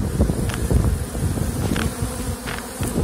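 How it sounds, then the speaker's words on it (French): Honeybees buzzing inside an open hive during an inspection, including a drone carrying pollen, with dense close buzzing and a few sharper wingbeat bursts, steady and loud with no voices. "Un faux bourdon qui est dedans, là"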